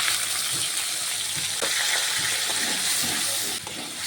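Ginger and tomato paste frying in hot oil with whole garam masala and nigella seeds, a steady close sizzle with some stirring scrapes, no talking.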